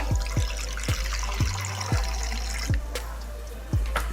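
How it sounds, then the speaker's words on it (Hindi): A small amount of water is added bit by bit to onions frying in a pan for fish biryani, giving a constant close sizzle and trickle with regular dull stirring knocks and no voices. "मैं आधी प्याली पानी के लिए डालूंगी इसमें।"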